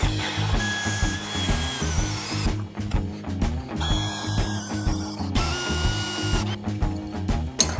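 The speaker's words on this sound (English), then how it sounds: "Once your holes are drilled" A power drill bores holes through metal TIG welding practice coupons, a steady loud whirring grind that pauses briefly twice before resuming.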